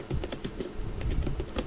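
Rapid, steady keystrokes on a computer keyboard while entering PHP code for a database insert query, close and crisp with no talking.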